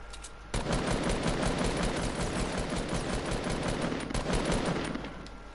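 SMG fire in Fortnite: a sustained, fast burst of automatic shots, loud and close, rattling almost continuously for about five seconds before tapering off.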